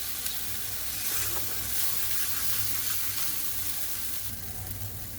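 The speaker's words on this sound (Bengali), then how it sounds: "ভালো করে কষিয়ে নিতে হবে একদম তেল ছাড়া পর্যন্ত।" Spice paste fries in hot oil in a pan, giving a steady, dense sizzle close up with occasional stirring scrapes and no voices.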